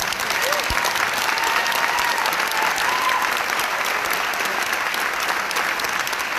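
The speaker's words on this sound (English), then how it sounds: "Please give these students a round of applause." Sustained audience applause for a student honor choir at an all-city concert, a steady dense wash of clapping filling the hall throughout with a faint murmur of voices underneath.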